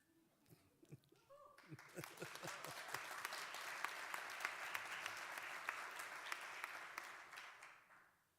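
Audience at the opening session of a municipal association's national assembly in Iceland breaks into sustained applause, building quickly to a dense, loud clatter of many hands before fading out, with a few voices heard briefly at the start.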